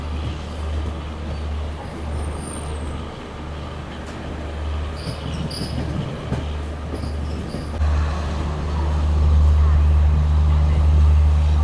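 The Amritsar Swarna Shatabdi Express runs on rails past Ambala toward Rajpura Junction in Punjab, giving a steady low rumble and rattle heard from inside that swells louder near the end.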